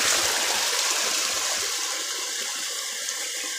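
Monsoon water gushing at a waterfall, a loud close rushing pour that gradually eases to a steadier, thinner flow over a few seconds, with no voices.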